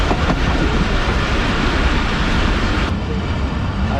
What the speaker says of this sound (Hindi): तो दोस्तों धाबे जी पर अप्रोच कर रही है ट्रेन और यहाँ पर भी जो है वो ब्रेक लगना शुरू हो गए हैं ट्रेन के।